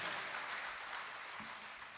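Audience applause at a Hindi kavi sammelan poetry recital, a steady, fairly distant wash of many hands clapping, continuous throughout.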